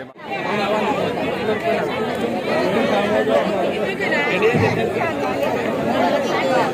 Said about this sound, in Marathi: गर्दी कशी आहे आणि आवाज कसं चालू आहे ना.